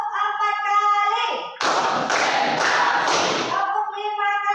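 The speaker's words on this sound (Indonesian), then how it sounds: "tepuk 4 kali" Four quick, loud hand claps close by, evenly spaced, during a classroom counting routine, with someone talking just before and after.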